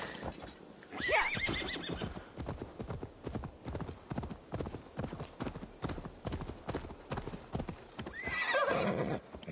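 Horse hooves in Assassin's Creed Valhalla clip-clop in a steady rhythm at close range, with a horse whinnying near the start and again toward the end.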